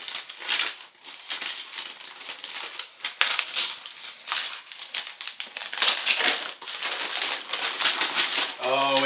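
Disney gift wrapping paper is torn open and crinkled, giving loud, continuous rustling and ripping close by for the whole stretch.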